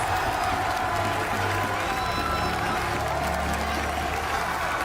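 A large esports event crowd cheers and applauds in a steady, dense roar that fills the whole stretch without a break.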